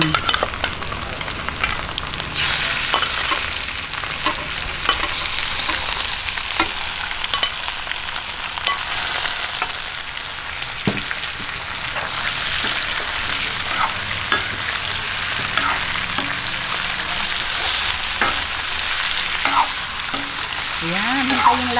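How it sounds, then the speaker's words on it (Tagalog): Pork belly sizzles and fries steadily in a pan with softened onions, a dense continuous crackle with frequent scraping stirs and small pops throughout, close and fairly loud with no talk. "Ngayon po, lagay na po natin itong ating liempo."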